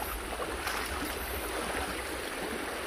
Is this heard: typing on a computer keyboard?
no